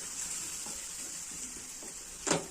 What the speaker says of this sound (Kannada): ಅದೇ ಬಿಸಿಗೆನೆ ಚೆನ್ನಾಗಿ ಫ್ರೈ ಆಗ್ತೈತೆ